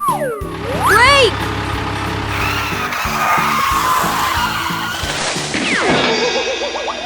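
Cartoon truck braking hard and skidding into a trap, a loud drawn-out screech with rumbling engine over a couple of seconds, sliding sweeps at both ends, with an animated character's voice over the top.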